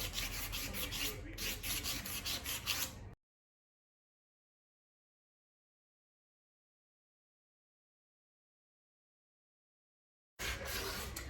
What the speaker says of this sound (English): So I'm gonna skip a little area, and I'm just gonna rub it.